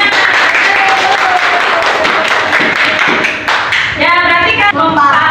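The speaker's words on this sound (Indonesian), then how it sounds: "Tepuk tangan." A class applauds during an Islamic cultural history lesson, with dense, loud clapping that is continuous and close and has some voices mixed in. Near the end the clapping gives way to a rhythmic, higher patterned sound.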